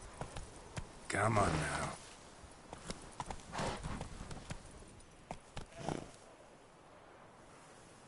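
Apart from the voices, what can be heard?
horse hooves clip-clopping in Witcher 3 Wild Hunt video game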